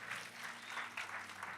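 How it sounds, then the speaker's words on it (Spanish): Church congregation clapping in praise during a Spanish-language sermon on healing, a brief, fairly soft burst of steady applause. "Vamos, dígame amén y den un aplauso al Señor."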